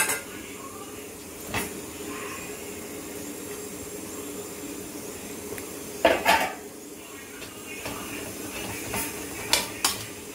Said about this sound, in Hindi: हम इसमें ये जो मैंने आलू अपना रखा है इसको डाल देंगे